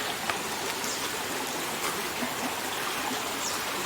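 Water flows loudly and steadily through a plantation channel, a dense, close rushing wash with no voices over it.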